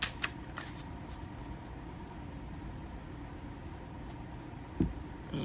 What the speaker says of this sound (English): So let me give these a little shuffle.